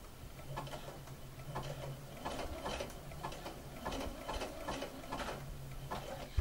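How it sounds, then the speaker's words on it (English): A sewing machine runs a zigzag stitch over a tear in a steady, rapid, rhythmic mechanical patter, close by and moderate in volume, with no voices. "Put my sewing machine to a zigzag stitch"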